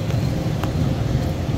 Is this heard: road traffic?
yes